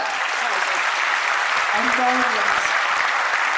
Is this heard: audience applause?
yes